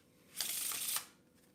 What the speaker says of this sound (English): That looked like a real shuffle, right?